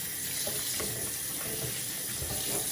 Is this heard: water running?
yes